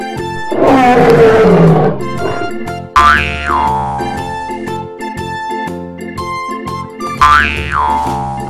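A tiger gives one loud, drawn-out roar, then a cartoonish springy boing sounds twice, all over light background music with no talking.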